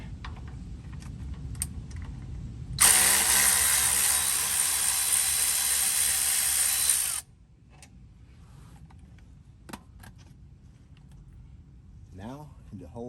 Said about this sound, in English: Ratchet on it.